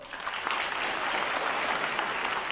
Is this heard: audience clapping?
yes